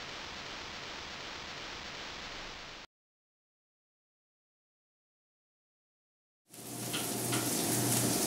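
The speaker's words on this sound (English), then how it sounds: "now we're gonna fry up a little onion and butter in a pan" Onion frying in butter in a pan gives a steady, hissing sizzle that cuts off to complete silence partway through, then returns a little louder.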